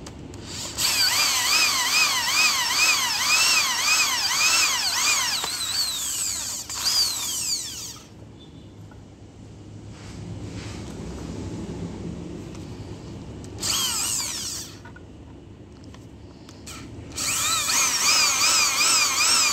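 An electric drill whines in several bursts while drilling during a homemade weld-jig build, its pitch wavering up and down, with quieter pauses of low mechanical noise between runs.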